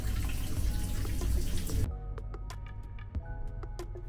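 A shower runs in a sleeper train compartment, a loud steady hiss of water that cuts off abruptly, leaving scattered drips and the faint hum of the moving train.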